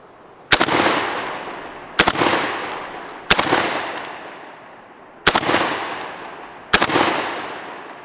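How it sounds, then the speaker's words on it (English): Five loud shotgun blasts from a JTS12AK 12-gauge AK-pattern shotgun firing birdshot outdoors, spaced unevenly about one to two seconds apart, each a sharp crack trailing into a decaying echo. "Let's blast some more birdshot."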